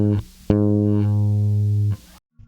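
Bass guitar plays a bar of a song: a few loud, sustained, deep notes with a change of pitch partway through, played alone before a sudden cutoff into silence.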